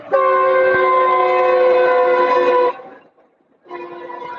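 A passing train sounds its horn close by: a long, loud, steady blast of nearly three seconds, a brief gap, then a second blast starting, with a faint low rumble underneath.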